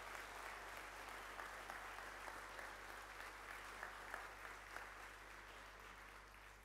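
Steady applause from an audience at a spoken talk, filling the room evenly for several seconds with a few sharper claps standing out, faint and somewhat distant over a low electrical hum.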